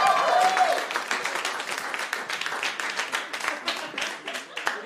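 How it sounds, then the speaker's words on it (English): Studio audience at a talk show applauds and cheers for a guest, a dense wash of clapping that starts loud and gradually thins, with a few whoops mixed in. "put your hands together, make some noise"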